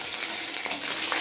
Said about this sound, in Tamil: ஸோ இது முந்திரி திராட்சையை நல்லா ஃப்ரை ரோஸ்ட்டு பண்ணி வச்சிடலாம்.